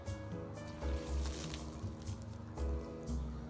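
A person drinks water in close, repeated gulps, with low swallowing bursts spaced through the clip and no talking.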